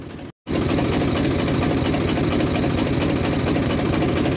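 A tractor engine hauls a trolley at night on a long journey, a loud, steady diesel rumble that runs continuously after a brief cutout near the start.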